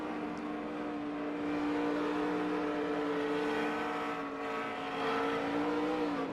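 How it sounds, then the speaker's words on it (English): A NASCAR race car engine at the Coca-Cola 600 drones in a steady, rising pitch as it revs, heard from a distance under broadcast ambience, though no clear impact of the wall stands out. "You can hear the RPM go up there, then you can hear him hit the wall."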